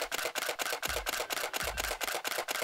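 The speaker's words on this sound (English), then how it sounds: "And you hear now, the normal shutter speed is this" A Canon 6D camera fires its shutter in continuous burst mode, a rapid, evenly spaced series of crisp mechanical clacks, around four per second, heard up close with no voices.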